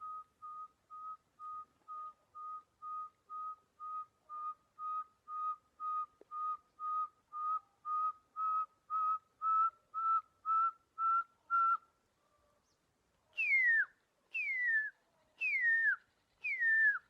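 A man whistles a bird-like call, a long run of short, evenly spaced pips that start soft and grow steadily louder, then, after a brief pause, several loud downward-sweeping whistles, imitating a bird flying in.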